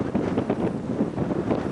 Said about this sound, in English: it is windy. It is kind of blowing that bow around a lot.